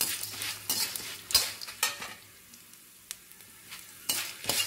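Spices and curry leaves fry in a pan for a home-cooked lunch curry, a soft continuous sizzle broken by several sharp scraping stirs of a spoon against the pan, close and without talk.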